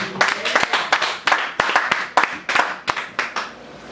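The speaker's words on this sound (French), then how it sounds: "Donne une bonne main d'acclamation." A church congregation at a Sunday service claps in a brisk, uneven rhythm of sharp, close hand claps, about a dozen distinct beats over a few seconds, with no speech over them.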